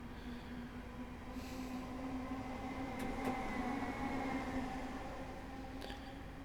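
A Class 317 electric multiple unit train running in a train simulator game, giving a steady low rumble with a faint motor whine and a few brief clicks and knocks, continuous and moderately quiet throughout.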